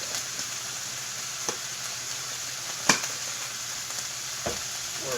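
Beef steak sizzles in a pan while cooking for sukiyaki, a steady close frying hiss with occasional sharp ticks and clinks of utensils.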